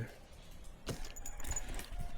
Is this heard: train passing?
no